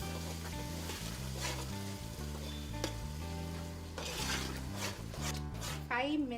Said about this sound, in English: This has to fry.